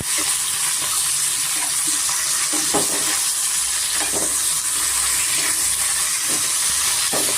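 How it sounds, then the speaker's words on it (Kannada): Brinjal fries in a little oil over a medium flame, giving a steady, loud, continuous sizzle with occasional soft stirring scrapes and no voices. "ಮೀಡಿಯಂ ಫ್ಲೇಮಲ್ಲಿ ಸ್ವಲ್ಪ ಎಣ್ಣೆಯಲ್ಲಿ ನಾವು ಚೆನ್ನಾಗಿ ಫ್ರೈ ಮಾಡ್ಕೋಬೇಕಾಗುತ್ತೆ"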